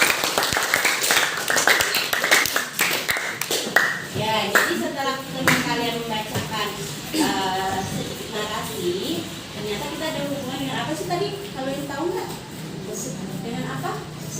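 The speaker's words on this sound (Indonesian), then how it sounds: "Tepuk tangan dong buat Dina." Clapping rings out in a classroom at the start, then a group of children's voices talks and chatters over the fading applause.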